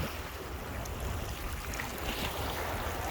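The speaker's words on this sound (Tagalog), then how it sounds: "Grabe yung lakas ng alon." Rough, steady rush of ocean water and wind noise buffeting the microphone, with low churning surges like strong waves slapping a moving fishing boat, continuous and loud.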